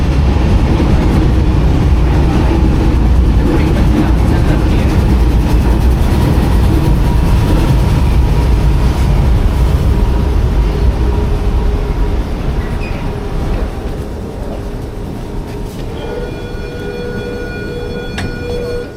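A 1950s Japanese-built subway train runs on Buenos Aires Line B, a steady loud rumble of wheels and motors with faint rhythmic clatter, easing slightly toward the end as tonal whines rise.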